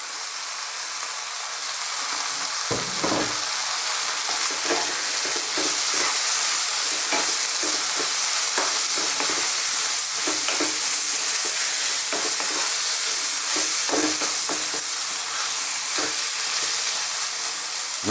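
Roughly chopped canned tomatoes cook in a tuna and bean chili, giving a constant, fairly loud sizzle and bubbling hiss with occasional soft stirring knocks, with no talking.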